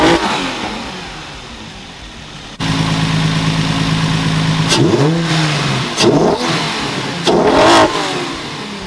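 A Nissan 350Z/G35 engine fitted with a Kinetix intake manifold, idling at first, then settling into a steady hum before several sharp throttle blips that rise and fall in pitch.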